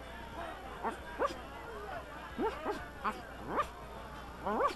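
A dog in the point-and-click adventure game The Secret of Monkey Island Special Edition gives a series of short, soft yips and barks in uneven bursts, fairly quiet against a low background hum.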